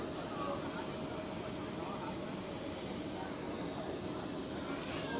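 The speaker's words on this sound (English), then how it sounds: "next cross runway departure, Swiss A320 to Copenhagen" A Swiss Airbus A320 departs Zurich Airport on the cross runway, its jet engines a faint, steady distant roar that holds evenly throughout.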